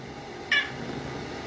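A cat sitting in a sink gives one short, faint meow against quiet room noise.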